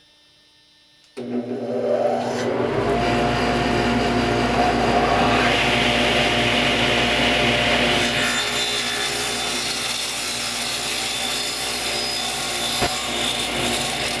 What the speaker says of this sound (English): The first thing we're going to do is to cut the 2 sideboards to length.